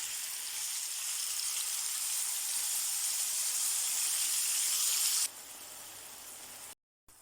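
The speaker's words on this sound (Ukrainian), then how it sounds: "Наливаємо його на картопельку і смажимо до загустіння." Steady loud hiss of young potatoes frying in a pan in honey-soy sauce for several seconds, then the sizzle drops to a quieter simmer.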